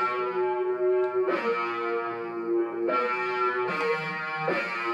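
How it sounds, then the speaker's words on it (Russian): A distorted synth lead from an FL Studio built-in plugin, part of a type beat, plays sustained buzzy notes in a few short phrases, each starting with a sharp attack, alone and fairly quiet. "Я добавил этот лид, потому что все-таки в Ableton'е метроном чуть музыкальнее."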